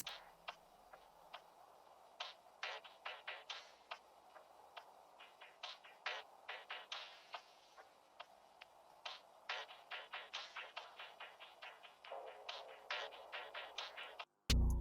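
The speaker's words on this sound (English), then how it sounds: "I added this only one perk loop from his Percussion Loops Volume 9 and this VHS texture from NAMI and Fiori's kit" A percussion loop of quick, dry ticking hits layered with a hissy VHS tape texture over a guitar sample, playing faint and steady in an irregular rhythm before stopping abruptly.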